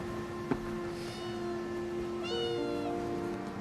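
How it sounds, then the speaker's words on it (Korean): A cat gives a short, rising meow, fairly faint against steady outdoor background noise, with a brief tap earlier on. "한 고양이가 다가옵니다."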